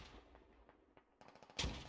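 Gunfire in a military squad shooter game: a few distant single shots, then a quick burst of rapid automatic fire ending in a louder, closer blast.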